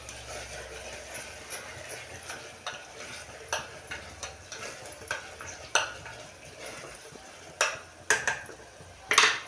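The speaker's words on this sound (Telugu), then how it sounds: "అల్లం వెల్లుల్లి పేస్ట్ కూడా వేసుకున్నాము కాసేపు అయితే మగ్గనిద్దాం" Ginger garlic paste fries in a pan under a soft sizzle, while a spatula stirs, scrapes and taps against the pan, the strokes growing louder and more frequent toward the end.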